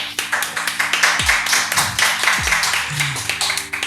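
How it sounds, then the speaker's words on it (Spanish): Audience clapping to welcome guest Matías Olivares at an INACAP Rancagua talk, sparse and distinct individual claps in an uneven rhythm, fairly close, with low tonal sounds sliding beneath. "con un fuerte aplauso lo presento"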